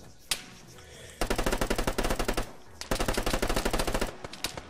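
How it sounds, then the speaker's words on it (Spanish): Bursts of automatic gunfire from the video game Argo, with an isolated shot followed by two long, rapid rattling volleys separated by a short pause, loud and close. "¿Quién coño está disparándonos?"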